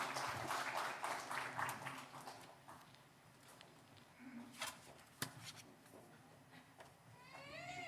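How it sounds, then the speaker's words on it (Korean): A burst of clapping from a church congregation rises and then thins out into scattered claps, fading to a few isolated sharp hits. "축하하면서 인사하시고 박수 드리겠습니다."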